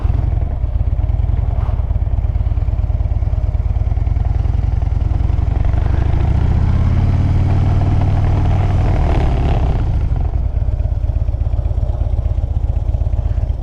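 Motorcycle riding, a loud steady engine drone with low rumble throughout, rising slightly in pitch midway as the bike moves and leans, with no talk.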